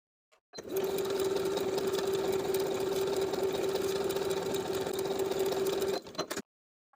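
A sewing machine runs a zigzag stitch at 2.5 mm width and 4 length, basting a swimsuit seam in one steady, even whirring run of about five seconds that starts and stops abruptly.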